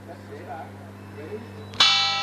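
A starting gong at a 1998 Sandown horse race rings out with a sudden bright metallic strike that decays slowly, following a stretch of low crowd murmur and background voices.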